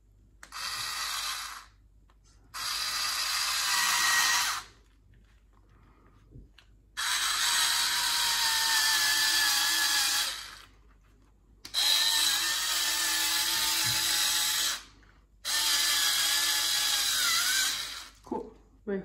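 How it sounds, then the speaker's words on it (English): A power drill whirs in several bursts of a few seconds each, high-pitched and close, with brief quiet gaps between runs as it bores a hole diagonally into material. "I'm going to try to drill a hole kind of diagonally."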